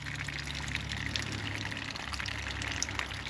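Water gushes and splashes steadily from a camper's plumbing as the lines are drained for winter, a loud, continuous pour with a low hum underneath and no talking.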